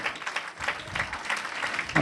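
A church congregation claps together in worship, a steady, fairly loud patter of many hands with a rough rhythmic pulse, filling the hall throughout.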